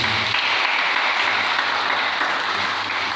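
A congregation at a praise service applauds and cheers together, a dense, steady wash of clapping and voices filling the room without a break.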